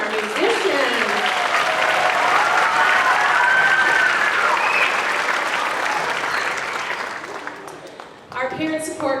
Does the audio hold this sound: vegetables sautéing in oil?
no